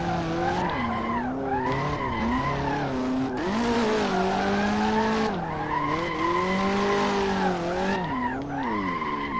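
Cars drift through a Hot Wheels Unleashed race, their tires squealing in long sliding wails that rise and fall over a steady engine roar, loud and continuous, with several sweeping pitch bends.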